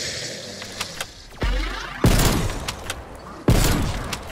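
Gunfire in the video game Call of Duty Cold War Zombies: loud, close shots in separate heavy bursts at roughly even intervals, each with a booming low thump and a sharp crack, among smaller clicks and mechanical sounds.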